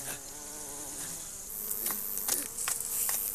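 Flies buzzing close around prehistoric people in a documentary scene, a continuous droning hum with wavering pitch as insects swoop nearby, with faint rustling in the background.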